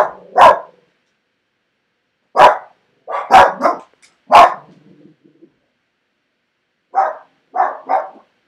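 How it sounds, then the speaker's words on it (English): Several dogs bark in loud, close bursts: a single bark, a quick cluster of three or four, then three more sharp barks after a pause, with silence between. "Sorry, tumatawal yung dogs."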